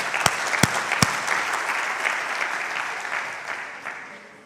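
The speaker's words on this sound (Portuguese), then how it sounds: "aplaude a Jesus" Church congregation applauding during a Portuguese sermon, a few sharp claps up front leading into a sustained round of clapping that gradually fades.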